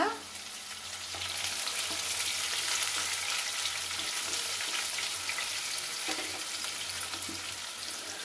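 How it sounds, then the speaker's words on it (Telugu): Onion and tomato frying in oil for a bottle gourd curry, a continuous close sizzle and crackle with light stirring scrapes now and then. "కొంచెం ఉల్లిగడ్డ కొంచెం రోస్ట్గా అయ్యేటప్పుడు టమోటా వేసుకోవాలి. ఇంకా కొంచెం వేగాల."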